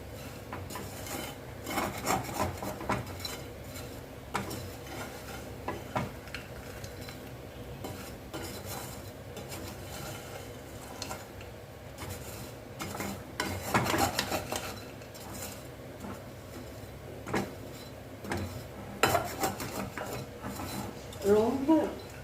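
Sweet sev (sakkarai sev) being stirred in a pan, giving repeated scraping and rubbing strokes of a utensil against the metal, soft and uneven, with louder bursts of stirring scattered across the stretch.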